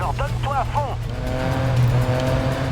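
A racing car in the GRID Legends video game squeals its tires in short sliding bursts at first, over a sustained droning engine that swells as the car keeps skidding.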